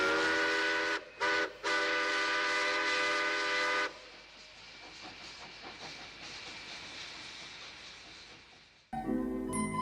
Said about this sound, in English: here's Bob the dog on the train.